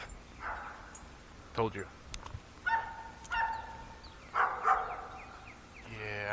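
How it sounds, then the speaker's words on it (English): A dog barks near a house beside a hiking trail, sharp barks in scattered bursts at close range, some yipping, with someone speaking briefly between them. "there's going to be a dog barking here in a second, so I'm gonna hold off."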